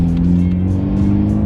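A 2019 Abarth 124 GT with a 1.4-litre turbocharged engine drones steadily under way, a loud, close, low engine hum with a constant tone and no speech.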